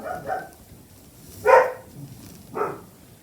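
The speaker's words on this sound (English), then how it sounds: "Now that was Bella the dog." A dog barks three times in a room where flowers are being arranged into a bouquet, each bark short and distinct with quiet gaps between, at moderate distance and with no talk.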